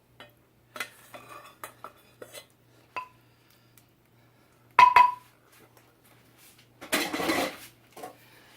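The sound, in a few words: transferring food into an oven dish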